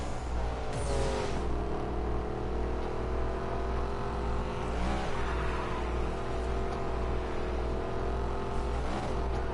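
A car engine in a PS4 racing game holds a steady, loud drone with a few rising rev surges and shifts, running continuously without voices.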